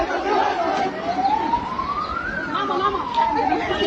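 A police car siren wails in a slow rising and falling sweep, loud and continuous, over a street where a rally crowd disperses, with background crowd chatter and voices underneath.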